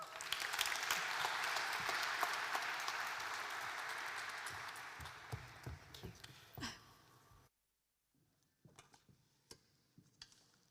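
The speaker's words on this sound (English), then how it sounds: "A round of applause, please, for Sultan Saeed Ahmed." An audience at the 2022 Somali Week Festival launch event applauds a guest speaker: full, sustained clapping that gradually thins into scattered claps, cuts to silence, then a few isolated claps and small noises return.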